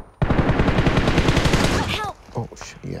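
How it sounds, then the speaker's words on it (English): Rapid automatic gunfire in the video game PUBG Mobile rattles in a dense, fast burst for nearly two seconds, loud and close, followed by a few scattered sounds and a brief voice. "When the other teams hear the gunshots, they will join the fight."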